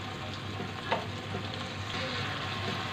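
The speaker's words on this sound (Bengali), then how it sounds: "মশলাটাকে ভালো করে কষিয়ে নিব" Ground spices, cumin paste, chili, coriander and turmeric powder, sizzle and fry steadily in a pan, a soft continuous crackle with a brief stir partway through.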